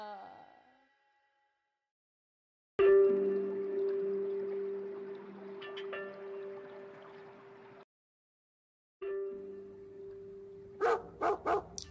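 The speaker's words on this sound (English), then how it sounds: "Dog," Dog barking and whimpering in short bursts separated by pauses, fairly close, with a few sharp yips near the end.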